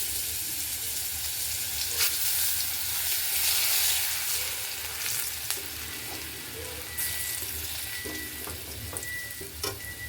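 Chopped garlic going into hot tempering oil with dried red chillies and black cumin, a continuous loud close sizzle with a few stirring knocks, no talking.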